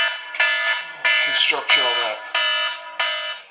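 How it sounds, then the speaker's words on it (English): An electronic alarm sounds in repeated bursts, a bright buzzing tone that starts and stops several times in a row, while someone talks at the same time close to the mic. "I had an alarm go off"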